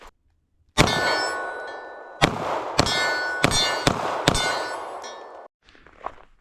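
Bullets from a GForce RPX9 Exodus rifle strike steel targets at a range, ringing out as five loud metallic clangs at uneven intervals, each with a long bright ring. A fainter ping follows after a pause.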